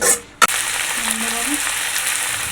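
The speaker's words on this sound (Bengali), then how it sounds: "আর কাঁচা লঙ্কা, আদা রসুন বাটাগুলো আমি ভালো করে নেড়ে ছেড়ে নিয়েছি।" Onion, green chilli and ginger-garlic paste fry in a pan for chicken chana masala, giving a steady, close sizzle with one short clank of a stirring spoon near the start.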